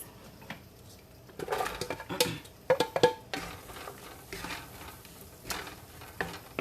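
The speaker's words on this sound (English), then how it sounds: "I'm going to add in my peppers." Peppers dropped into a pan with a sprinkle of flour over medium heat, giving soft sizzling with irregular scrapes and clatters of stirring and pan contact, moderately close with no talking.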